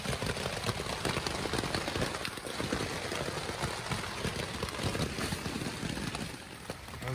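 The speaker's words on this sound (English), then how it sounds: "And it's pouring down rain." Dense, steady heavy rain patters hard on a tent close by, a continuous hissing drumming with no pauses.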